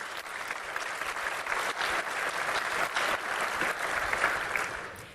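A conference audience at a waste management congress opening ceremony bursts into dense, sustained applause, a full crowd clapping evenly before tapering off at the end.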